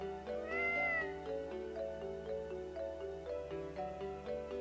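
A cat meows in an RPG Maker game: one clear rising-and-falling meow up front, followed by softer repeated mewing tones over a steady game music bed.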